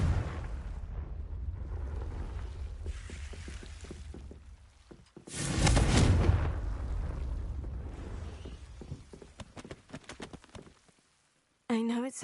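A Confringo blasting curse in Hogwarts Legacy, a sudden roaring burst that swells loud for about a second over game ambience and character dialogue, followed by a fading rumble.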